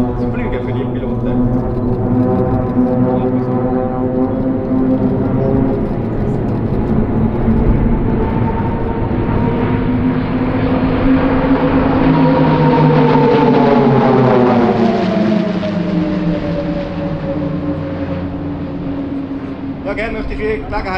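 Nine Swiss Air Force Pilatus PC-7 propeller planes fly a tight formation about 3 to 4 metres apart at 350 km/h, making a loud, sustained droning hum whose pitch slowly rises and then falls as they pass.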